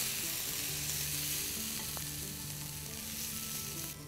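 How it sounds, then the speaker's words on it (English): Onions and a splash of balsamic vinegar frying in a pan, a constant close bright sizzle with faint stirring scrapes throughout, easing off right at the end. "So to the onions, we're going to add a tiny pinch of balsamic vinegar and going to continue to mix this around."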